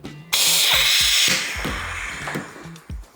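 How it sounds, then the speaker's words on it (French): An air hose fed by a fully charged compressor lets out a loud, sharp hiss of blowing air for about a second, then tapers off. Scattered low knocks and handling sounds follow around it. "je branche le tuyau d'air, le compresseur il est chargé à fond"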